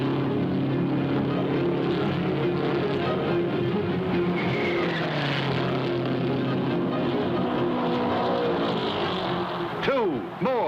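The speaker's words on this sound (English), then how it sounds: "The cars are on the backstretch now." Race cars at the 1961 Indianapolis 500 drone steadily along the backstretch in a continuous engine roar, with pitch slides as cars pass, while a commentator speaks over them.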